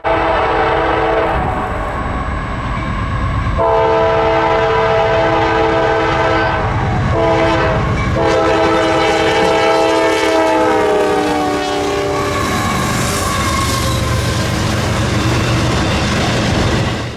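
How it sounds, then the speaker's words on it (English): CSX I-104 freight train with a boxcar on the head end passing close by, its loud multi-chime horn blaring in long blasts over the rumble and clatter of the rolling cars. "CSX I-104, with a nice horn and a questionable boxcar on the head end"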